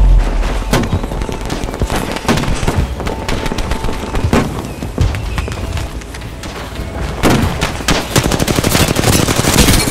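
Dense bursts of automatic gunfire in Apex Legends, loud and close, with rapid repeated shots and impacts across a busy firefight during a holiday event match.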